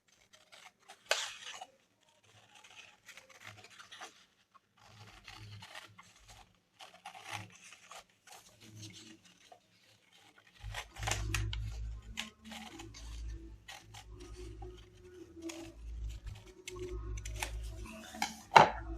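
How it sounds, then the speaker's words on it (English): Scattered crisp snips of scissors cutting paper and paper rustles come close to the microphone, with quiet gaps between, then a low hum enters behind the cutting sounds. "And then I'm going to cut this arch."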